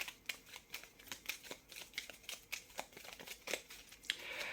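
Tarot cards are shuffled and handled in a quiet room, a rhythmic series of soft papery flicks and riffles close to the microphone, repeating steadily with no talking.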